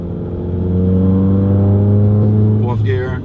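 VW MK7 GTI with a stage 4 clutch kit accelerating through a gear, a loud close engine drone rising steadily in pitch, then a brief shift break as revs fall, with talk over it.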